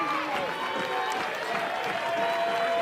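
A record crowd of more than 1,700 at a college softball game between Texas and Oklahoma State cheers and claps in a continuous roar while a commentator talks over it.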